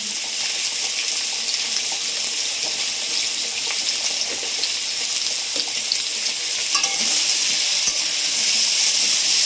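Loud, continuous sizzling of papaya chhakka with fried peanuts and salt frying in a pan, with scraping and clinks of a spatula stirring throughout.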